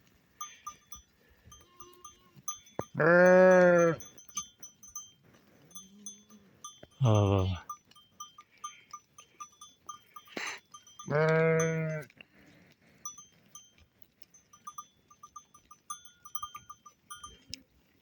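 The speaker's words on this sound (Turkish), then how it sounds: "Bu da bizim yan köyün koyunları." Sheep bleat loudly three times with long pauses between, over a quiet outdoor background with faint ringing bells.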